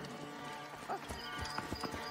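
Horses clatter along in the game Assassin's Creed Origins, hoofbeats clip-clopping in a quick uneven rhythm with a brief whinny, close and fairly loud, while a voice speaks faintly in the mix.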